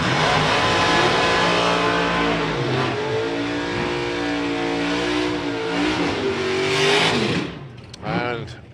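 Drag racing cars with throttle stops roar loudly down the strip at the Euro Finals, a sustained close engine howl with rising revs before cutting off, followed by a brief burst; a commentator talks over it.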